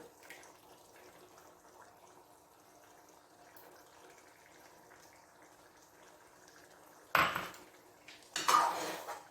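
Yogurt and cream for ginger chicken mixed in a pot: a quiet stretch of faint kitchen background, then two loud, close clattering bursts of a utensil scraping and knocking against the pot near the end.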